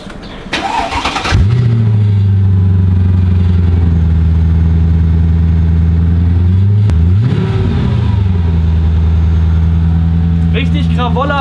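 A sports car's engine cranks and catches into a loud, deep rumbling idle from its exhaust, holds steady for several seconds, then gives a quick rev before settling again. A brief voice is heard at the end.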